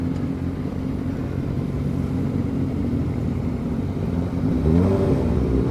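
A Suzuki Hayabusa motorcycle accelerates with a steady, close engine drone, its pitch rising gradually and the engine swelling louder near the end, with no voices over it.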